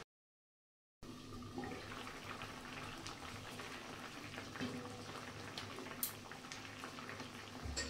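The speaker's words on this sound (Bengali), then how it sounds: "এবার এটা আমি চাপা দিয়ে দেবো আর 10 মিনিট ধরে এটা সেদ্ধ হবে" Papaya chutney bubbles in a covered pan, a steady soft simmering hiss with faint pops after a second of silence, continuous and close with no voices.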